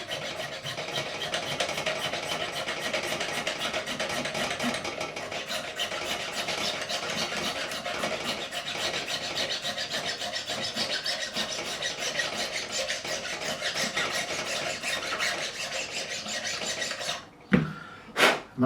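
A file levels a guitar fret on a 1986 Hamer Chaparral during a refret, a continuous rough rasping scrape close by and alone, ending in two sharp knocks.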